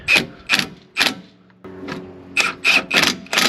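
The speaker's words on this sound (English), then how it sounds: "I'm just going to use the impact on a low setting to get these snug." An impact wrench on a low setting snugs lower strut mount bolts on a Kia Rio, firing short, rattling bursts in quick succession with a brief pause in the middle, close and loud.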